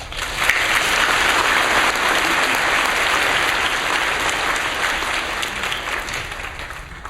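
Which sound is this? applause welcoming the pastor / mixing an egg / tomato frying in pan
applause welcoming the pastor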